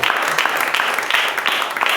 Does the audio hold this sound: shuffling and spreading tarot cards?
no